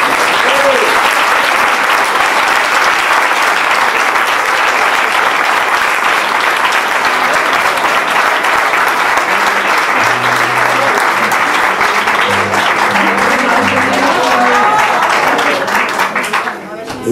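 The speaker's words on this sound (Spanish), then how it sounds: "Bueno, un aplauso para Ismael que se tiene aquí" Audience applause at a live music event in a Vallecas cultural venue, loud and sustained for about sixteen seconds with dense, steady clapping, briefly fading at the end; a few voices and faint low tones sit under it.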